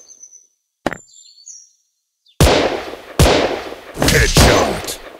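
Gunshots ring out in the mobile shooter game Gun Sprint: a sharp crack, then after a pause a burst of four loud, close blasts with reverberating tails, faint game tones in between.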